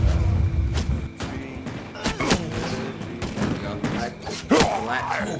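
A volley of musket-style gunfire from gunners in a Bannerlord battle: a rapid scatter of sharp cracks and thuds, some close and loud, others farther off, over continuous battlefield din.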